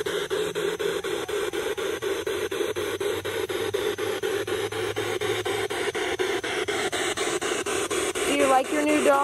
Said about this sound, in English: Do you like your new dog?